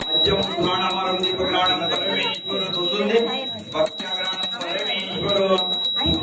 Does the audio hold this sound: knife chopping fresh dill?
no